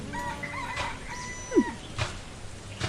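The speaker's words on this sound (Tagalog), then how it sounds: "Tumitilaok na ang mga manok." A rooster crows once, loud and near, with other chickens clucking faintly around it in a short stretch of farmyard sound.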